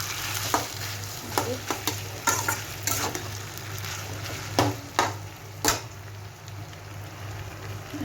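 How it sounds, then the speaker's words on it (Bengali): Vegetable chowmein frying in a pan crackles steadily while a utensil scrapes and stirs in quick irregular strokes, close up, with a low steady hum underneath and no speech. "একটু ভালো করে নাড়িয়ে নিই"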